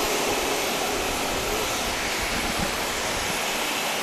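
Aircraft at Grand Cayman airport, heard as a steady, loud broadband roar of engine noise that stays constant throughout without any talk.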